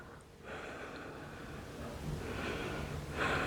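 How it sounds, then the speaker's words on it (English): Heavy breathing during a yoga twist: slow, close inhales and exhales with soft snorting, gasping air through the nose, quiet and unaccompanied by talk. "And breathing into this twist."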